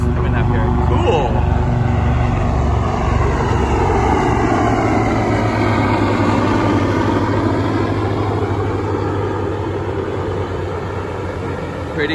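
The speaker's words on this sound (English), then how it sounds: "We got some Cobra helicopters coming up here." Cobra military helicopters pass overhead near the San Onofre beach campground in Southern California, producing a loud, steady, broadband rotor and engine roar that holds throughout and slowly fades toward the end.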